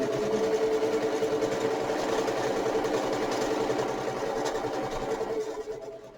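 A sewing machine runs a steady stitching seam on bunting fabric, a close, even mechanical whirr with a rapid rhythmic needle chatter that slows and trails off near the end, no talking.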